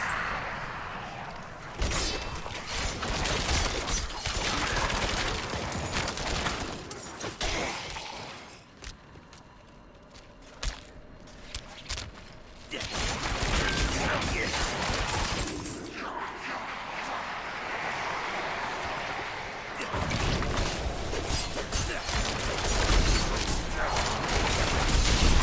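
Shadow explosion skill in Diablo IV, cast by a rogue shadow archer: dense bursts of booming, shattering game combat effects with a lull midway, loud and continuous under faint voice.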